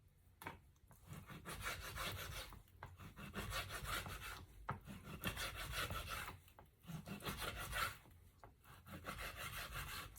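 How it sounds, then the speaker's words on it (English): A knife drawn back and forth through steak being cut into thin strips for Philly steak sandwiches, repeated rasping sawing strokes with brief pauses, close and quiet, no talking. "so we're done with the steak. So we're done slicing it."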